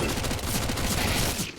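Rapid SMG fire crackles in CS:GO during a professional Inferno match, a dense sustained burst of shots lasting just over a second with no talk over it.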